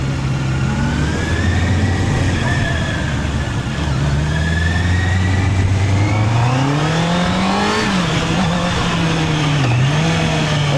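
A Honda CB650R E-Clutch motorcycle engine running loud and close, a sustained roar with pitch rising and falling as the throttle is blipped and held, no talk.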